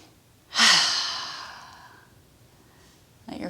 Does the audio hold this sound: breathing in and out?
yes